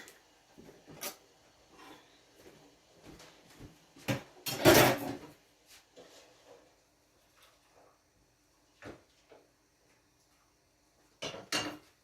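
Ginger is spooned into glass jars in a country kitchen, producing sparse light clinks and taps spread over several seconds, with one louder rattling clatter in the middle and a few sharp knocks near the end.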